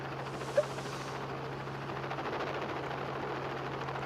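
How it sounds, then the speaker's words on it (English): A helicopter filming a mountain bike stage race during the Absa Cape Epic, its steady rotor drone and pulsing chop continuous and moderately distant, with a brief click near the start and no speech. "as does the man in the helicopter, Profi, our pilot, and cameraman Mark LaRue"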